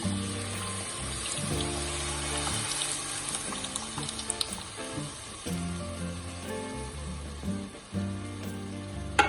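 Milk pours into a pan of lightly browned makhandi halwa, a continuous liquid splashing and bubbling with soft sizzle, moderately close, with a few clinks along the way and no talking.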